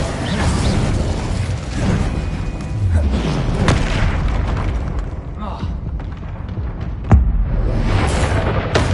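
Descendo spells cast during Hogwarts Legacy combat on PS5: loud booms and heavy thuds mixed with clanking, ratcheting game mechanisms, repeated over several seconds amid continuous battle noise and some voice.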